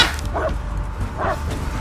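A dog barks twice in the Blair Witch video game, two short separated yaps at moderate distance over a low, steady ambient drone.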